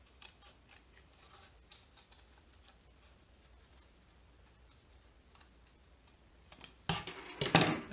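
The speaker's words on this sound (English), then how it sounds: "I'm going to take my scissors and I'm going to make sure that I start again right in that corner" Scissors snip paper in a series of quiet, irregular cuts nearby, then a louder burst of crisp crunching snips at the end.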